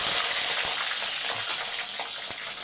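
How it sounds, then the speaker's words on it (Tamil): Hot oil spatters in a frying pan with a close, steady hiss of sizzling and scattered small pops and crackles. "அதனால் இப்படி தான் எண்ணெய் தெறிக்கும்."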